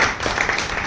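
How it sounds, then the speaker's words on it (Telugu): Loud applause from an audience at a customer gathering, a dense, steady wash of many hands clapping together without a break through the whole short burst. "అందరూ కూడా ఒకసారి గట్టిగా క్లాప్స్ కొడతాము"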